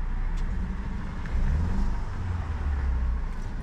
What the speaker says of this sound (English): we still got a terrible misfire